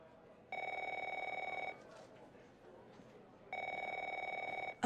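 An electronic telephone in The Operator video game rings twice, each long trilling burst separated by a gap with faint background sound, near and clear.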